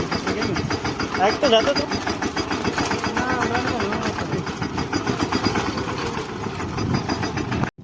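A farm tractor engine starts and settles into a rhythmic, chugging idle, loud and close, with people talking over it throughout.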